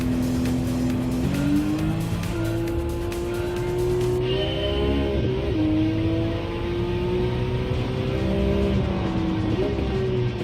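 A Porsche race car engine drones and revs steadily in Gran Turismo 7, with pitch rising and falling through gear shifts and a brief tire squeal.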